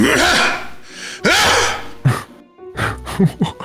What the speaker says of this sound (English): That's my dog clearing her throat